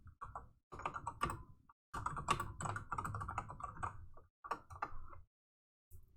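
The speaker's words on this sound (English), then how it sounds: "Hold on, I'm typing about the YouTube thing to her." Rapid keystrokes clatter on a computer keyboard in close, uneven bursts with short pauses between runs, ending with a lone final tap after a gap; no talking.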